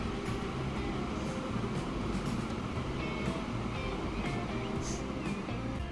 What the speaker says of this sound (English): Our train arriving back with its first load of cattle, our first profit of the game.